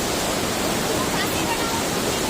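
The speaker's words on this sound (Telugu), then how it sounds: "ఇక్కడ నుంచి వచ్చే హాట్ స్ప్రింగ్ వాటర్ అన్నమాట" Hot spring water flowing at Manikaran, a steady broadband rush of moving water that fills the whole stretch at an even, close level with no pauses.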